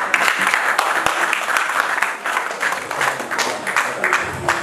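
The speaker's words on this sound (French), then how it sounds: "Est-ce qu'on peut applaudir pour lui?" Guests at a 21st wedding anniversary celebration in Houston, Texas clap together in a lively, uneven burst that holds steady and loud throughout, with a few voices mixed in.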